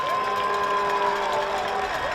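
Home crowd at a varsity high school football game, Bentonville Tigers against Rogers Mounties, a steady wall of distant cheering and crowd noise with tonal hum running throughout.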